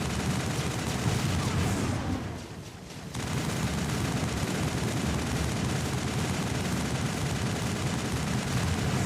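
Sustained gunfire rattles in Mass Effect 1 combat, a dense, steady barrage of shots that briefly drops away before resuming at full intensity.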